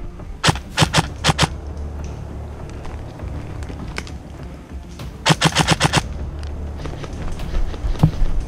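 Airsoft guns fire during an outdoor game, in sharp rapid bursts of clicking shots, a couple of short volleys separated by a steady background rumble.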